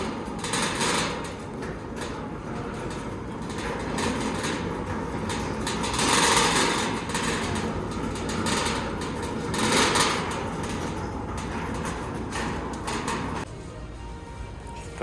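A shopping cart pushed through a Lowe's store, a continuous rolling rattle of wheels and wire frame with swells and dips, close, over a busy store background without talk.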